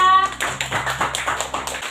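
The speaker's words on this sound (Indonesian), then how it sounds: "tepuk tangan untuk kelompok 3" Short burst of classroom clapping for a presenting discussion group, a few quick uneven claps close by lasting under two seconds.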